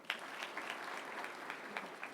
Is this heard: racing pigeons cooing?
no